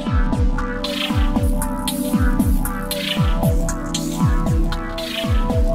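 Viral Outbreak synth preset played with the mod wheel sweeping a master filter: repeating throbbing low plucks with falling pitch over a sustained droning pad, steady and loud throughout.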